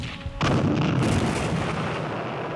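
Artillery fire from a Korean War battle in the hills: a heavy boom lands abruptly and rolls into a sustained, loud rumble of barrage and explosions that slowly decays, with no voices.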